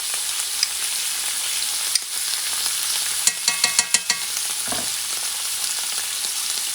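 A thin steak fries in salted butter in a pan with a constant bright sizzle, punctuated by a quick cluster of sharp utensil taps and clicks near the middle, no voices.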